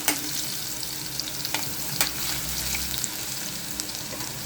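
Crushed garlic and asafoetida fry in a hot pan for a Marathi home-style dill, spinach and raw mango dish, a steady close sizzle with a few sharp stirring clinks and scrapes and no talking.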